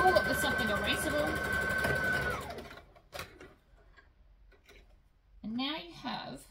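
A sewing machine stitches flannelette unpaper towel with a fast, steady whirring hum for about two seconds, then stops; someone talks over it and afterward.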